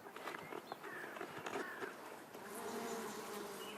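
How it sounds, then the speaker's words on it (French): Honeybees hum at a hive in the open, a faint steady buzzing of many insects with occasional closer passes, low in level and without voices. "Et vous entendez le petit bourdonnement là?"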